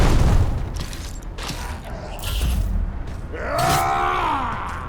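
A grenade is thrown and bursts in the Warhammer 40k Rogue Trader video game, giving a low boom at the start, followed by rumbling combat noise and a rising whine, with no talking.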